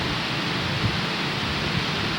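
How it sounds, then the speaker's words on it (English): Steady rain falls on a boat passing through the Panama Canal, a dense continuous hiss with faint low rumbles underneath and no voices. "Rain's letting up a little bit."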